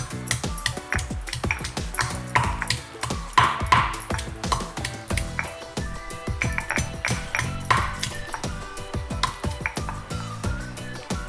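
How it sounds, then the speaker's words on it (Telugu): Garlic cloves pounded coarsely in a stone mortar for roasted brinjal chutney, with steady, close, sharp rhythmic thuds and clacks repeating throughout, no talking. "వీటిని కచ్చా పచ్చగా దంచుకోవాలి."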